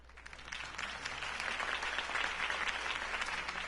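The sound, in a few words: crowd applause in a video game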